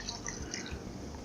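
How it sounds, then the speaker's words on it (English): Water poured into a crock pot while making ropa vieja, a soft trickling and dripping splash, close and quiet, with no talk. "So we're just gonna go ahead and add some water to this."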